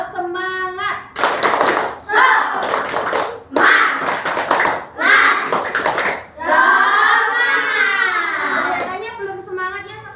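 Schoolchildren in an Indonesian classroom chanting a rhythmic spirit-clap routine, loud sung voices in bursts with clapping and hand taps keeping time, ending in a long drawn-out shout.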